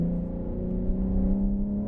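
BMW M3 accelerating up a hill on a racetrack, a steady loud engine drone heard from inside the car, sustained without talking.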